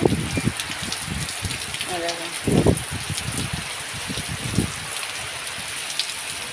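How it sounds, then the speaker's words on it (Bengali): Heavy rain hissing steadily in the background while voices speak over it, with occasional splashes and thumps. "এই দেখো কেমন বৃষ্টি হচ্ছে দেখো প্রচুর পরিমাণে বৃষ্টি হচ্ছে"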